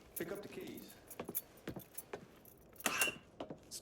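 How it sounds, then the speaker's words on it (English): Keys jangle as they are picked up in the Mafia 3 video game, a few short metallic rattles and clinks close by, alone with no talk. "Lincoln, pick up the keys."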